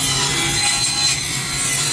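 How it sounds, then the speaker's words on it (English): Wood crown molding being sanded by hand, a steady, continuous close-up scratching rasp that runs without a break and with no voices. "Get everything sanded down."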